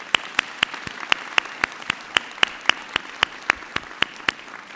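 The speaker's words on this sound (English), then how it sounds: "We can clap for you." Scattered audience clapping at an optometry class welcome ceremony, individual crisp claps in a loose, fairly regular rhythm, moderately near against a quiet room.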